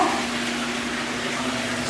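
Warm water runs steadily from a bathtub in a home, a constant close hiss and gush with a faint hum under it and no talking.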